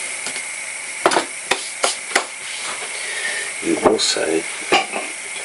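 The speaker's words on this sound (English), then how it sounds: "You stir it around and make sure each grain is coated" Rice grains stirred around in a pot to coat them before cooking, giving a series of crisp scraping knocks followed by a softer hissing shuffle, close by, with a brief spoken word partway through.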